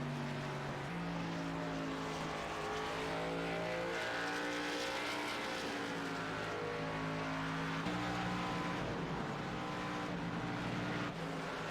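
Race car engines drone in a racing video game, an AMA Pro Cup e-sport event at ISM, as several cars hold a steady, sustained roar with shifting pitch and no gaps, loud and continuous without voices.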